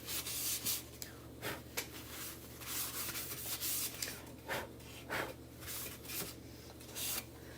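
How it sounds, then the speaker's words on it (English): Wooden surface being sanded by hand during a chalk craft project: repeated soft, close rasping strokes in a steady back-and-forth rhythm over a low background hum. "Sometimes when you sand our surfaces, it'll get it nice and smooth because it takes out all of that wood grain for you."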